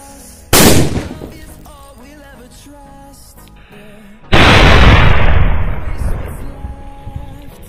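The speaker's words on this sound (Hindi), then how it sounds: "काफी धमाका किया इस सुतली बम ने" A huge sutli bomb firecracker goes off in a hole in the ground with a loud, close blast that rumbles and decays. A second deep boom follows, with debris and rumble lingering afterward.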